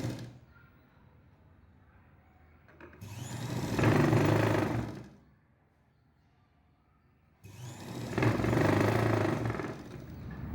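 Sewing machine stitching the band of a lined jacket, two separate runs of steady motorized whirring, each lasting about two seconds, with quiet pauses between them.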